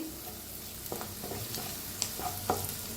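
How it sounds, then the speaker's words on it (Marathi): Turmeric roasts in a pan over very low gas, giving a soft, quiet sizzle broken by a few light stirring scrapes and taps. "हळदीला बी छान असं भाजून घेऊया."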